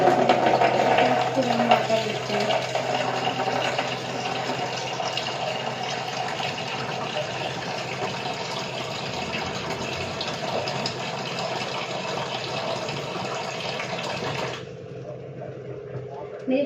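Water pours steadily from a home water filter into a container for kneading dough, a continuous loud gushing stream that runs for about fourteen seconds. Then it stops abruptly, leaving quieter room sound.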